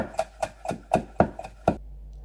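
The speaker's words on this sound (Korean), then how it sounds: "대파는 반으로 갈라서 송송 썰어줍니다." Knife chopping green onion (daepa) on a cutting board, seven crisp, evenly spaced chops in a steady rhythm, close and clear, then silence.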